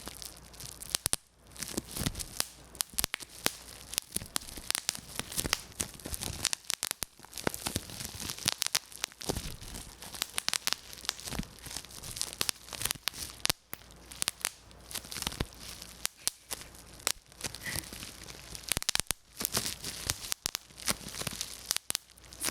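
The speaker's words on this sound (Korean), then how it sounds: "그럼 뽁뽁이 터뜨리는 소리를 들려드리겠습니다." Dense, irregular snapping and crackling close up, with plastic crinkling between rapid little pops that continue steadily without a break.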